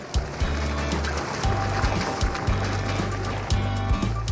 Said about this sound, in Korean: 찰랑거리는 물소리가 들리죠.